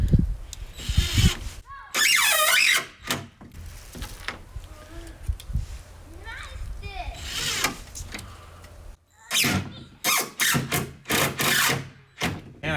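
Power driver running screws into plywood for a homemade rooftop tent, several bursts of high whirring and squealing separated by short pauses and handling clatter, close by.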